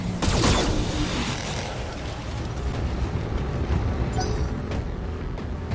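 Mechs trading heavy weapons fire in the BattleTech video game, a loud, dense barrage of booming blasts and rumbling impacts sustained throughout, with a sharp burst near the start and no talking.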